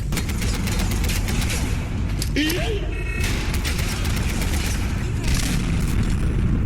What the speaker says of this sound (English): that's gonna call for a grenade